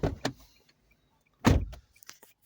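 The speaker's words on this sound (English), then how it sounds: "It wants me to open and close the door," A 2022 Nissan Kicks door is opened and shut, with a couple of light latch clicks early on, then a solid slam followed by small clicks and rattles.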